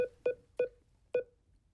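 Lose sound effect from the Sidekick spinning wheel app: four short pulsed tones in a quick, slightly uneven sequence, clean and alone.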